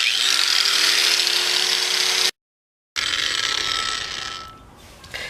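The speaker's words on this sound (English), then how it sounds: "I know the angle grinder is gonna spin really fast" An angle grinder fitted with sandpaper whines loudly and steadily while polishing a factory aluminum Astro van rim. It cuts out briefly, then resumes and tapers off near the end.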